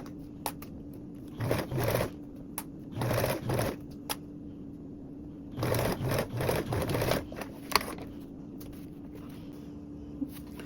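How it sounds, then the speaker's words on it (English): A sewing machine stitches binding on a tote in several short bursts of rapid, even whirring, close by, separated by quiet gaps. "We'll go ahead and start here and work our way down, sewing with a 1/8 seam allowance."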